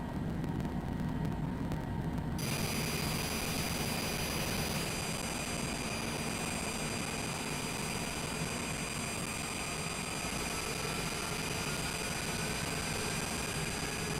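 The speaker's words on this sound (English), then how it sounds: "Let's go over to engine 2. Start her up." Engine 2 of an airliner starts up in Microsoft Flight Simulator 2020: a loud, steady jet roar shifts and spools up after a couple of seconds, with a thin rising whine, continuing without talk.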